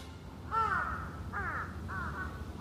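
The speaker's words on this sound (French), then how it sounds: "Un soir, le roi aperçut 2 corbeaux sur le pas de sa porte, perchés sur un if." Two crows caw from a tree by a doorway in the evening as a storybook effect, harsh calls in three separate bursts over a low rumbling background, fairly close and alone.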